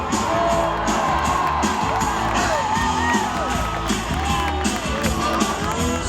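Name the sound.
crowd cheering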